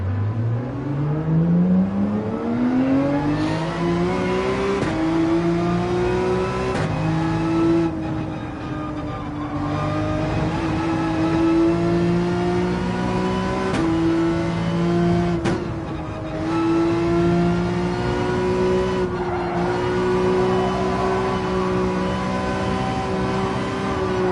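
Race cars in the video game Gran Turismo 7 roar continuously, a loud, high engine whine climbing through the revs with several brief dips at gear changes, alone with no talk.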